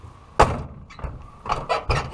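The door of a 1965 C30 crew truck thuds shut with a sharp knock, followed by a few softer clunks and handling sounds nearby.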